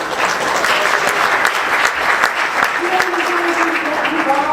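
Concert audience applauding, a steady loud wash of many hands clapping close by for several seconds, with faint voices and a brief tonal sound near the end.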